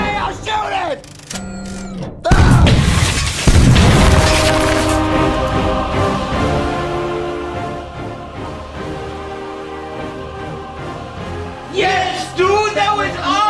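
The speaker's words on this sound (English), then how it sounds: "Shoot the table! Break it! Shoot!" A gunshot fired at a table to smash it: two loud, close blasts a second apart, with crashing and a long ringing decay, then excited voices and yelling in the room.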